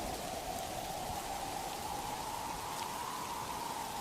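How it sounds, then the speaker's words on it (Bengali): Heavy storm rain pours down steadily in a dense, continuous hiss, close and unbroken for the whole stretch, with no voices. "রাসেল প্রচন্ড ঝড় বৃষ্টির ভেতর সবাইকে নিয়ে তার বড় ভাই রোহানদের বাড়ি যায়"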